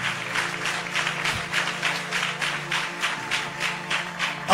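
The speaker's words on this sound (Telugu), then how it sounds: "ఒకసారి చప్పట్లు కొట్టి దేవుని స్తుతిద్దామా? కొంచెం గట్టి కొట్టండి." Church congregation at a Sunday service clapping hands together in praise to God, a steady rhythmic run of about a dozen claps at a moderate distance, with a sustained low musical drone beneath.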